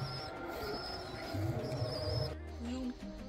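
Low, soft pigeon coos repeat close by amid background clutter and a faint high tone, with a muffled voice in the mix.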